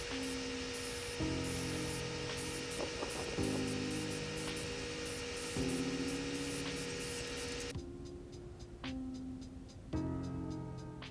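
Black spray paint hisses in steady bursts onto handmade escrima sticks, with long continuous sprays broken by short pauses and a couple of quicker puffs near the end, all under a constant background hum.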